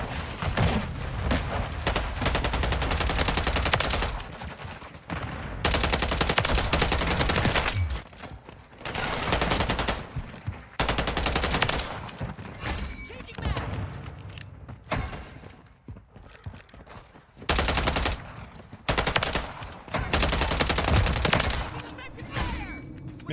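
Loud, sustained bursts of automatic gunfire from Call of Duty: Modern Warfare III, repeated volleys with short pauses and some booms, with a voice briefly over the shooting.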